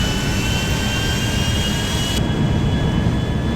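Jet airplane engine in GTA 5, a steady loud roar with a high whine running throughout, close and continuous, alone without talk.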